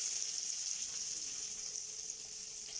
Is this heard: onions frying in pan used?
yes